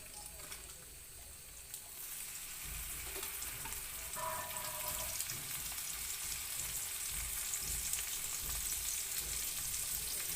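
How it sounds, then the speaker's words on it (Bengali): Hilsa fish frying in hot oil, a steady crackling sizzle that holds at moderate level throughout with faint clinks, no talk. "এখন আমি একে একে করে মাছটি ছেড়ে দিচ্ছি তেলের উপর।"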